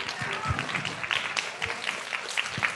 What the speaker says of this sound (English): let's give first grade a big round of applause.